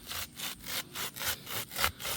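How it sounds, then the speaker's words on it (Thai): Hand saw cutting through a banana tree trunk to make a planting spot for turmeric, five rhythmic rasping strokes in quick succession, close and loud, with no talking. "ตอนนี้นะครับคุณแม่ก็ กำลังจะเลื่อยนะครับ"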